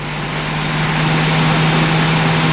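A newspaper delivery lorry's engine gives a steady, loud, broad rumble with a low hum throughout, holding close and constant rather than fading, with no voices.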